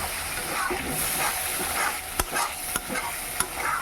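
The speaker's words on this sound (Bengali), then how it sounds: "এখন দিলাম এটাতে টক দই ফেটানো।" Whisked sour yogurt goes into hot spiced oil for a cauliflower, potato and paneer curry and is stirred, giving a steady frying sizzle broken by a few sharp spoon clicks against the pan.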